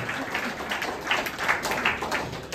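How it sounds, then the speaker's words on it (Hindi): An audience claps together at a Republic Day free health checkup event at a wellness centre, a steady, dense patter of hands lasting throughout at moderate volume, with no pauses. "आप बजाओ ताली"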